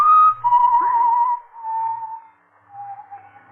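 Someone whistles a slow, wavering tune in a quiet room, drawn-out pitched notes with short pauses between, clear and moderately near with nothing else heard.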